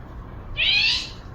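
A house cat gives a single short meow, clear and fairly close, rising and falling within a fraction of a second against a quiet indoor background.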